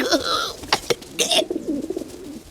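Cartoon pigeons coo in short throaty bursts, close and fairly loud, with a few sharper bird calls mixed in and no talking.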